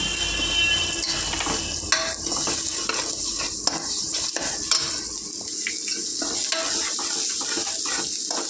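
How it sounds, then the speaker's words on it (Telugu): Ginger garlic paste with turmeric frying in a pan for fish curry makes a continuous loud sizzle, with frequent stirring scrapes and light utensil knocks throughout. "అల్లం వెల్లుల్లి పేస్ట్ పచ్చివాసన పోయే వరకు ఈ విధంగా ఫ్రై చేసుకోవాలి"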